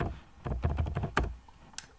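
A short phrase is typed on a computer keyboard: a close, quick burst of uneven key clicks with a few louder taps and brief pauses.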